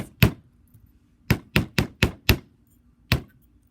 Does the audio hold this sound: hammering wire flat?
yes